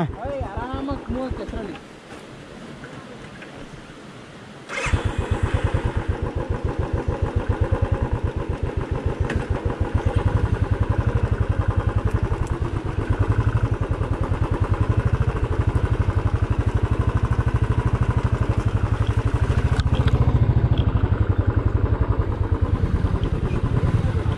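A motorcycle engine runs on a forest trail near Ukkada Waterfalls in Chikkamagaluru, starting with a quieter idle, then a loud, steady throbbing rev that builds and holds close by, with people talking over it.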